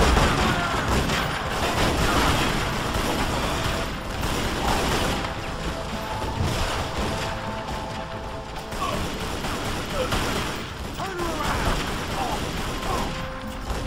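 Enemy gunfire in the video game Tomb Raider Legend, a dense, continuous clatter of shots and mechanical crashes running throughout, loud and busy, with a voice talking over it.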